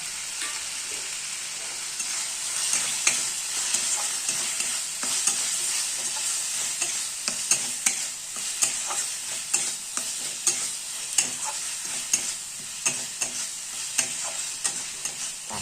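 Masala spices of meat masala, cumin and curry powder frying in a pan, a soft steady sizzle broken by regular scraping strokes of a spoon stirring, close and alone without talk.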